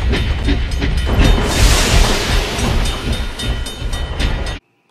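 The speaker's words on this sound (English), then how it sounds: "The train should be here any second now." A cartoon train rumbles steadily into a station, a loud continuous rolling clatter of rail wagons that cuts off abruptly near the end.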